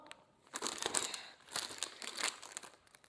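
Plastic wrapper on a LEGO Ninjago magazine crinkles and crackles while being cut with scissors, in quiet close-up bursts of rustling.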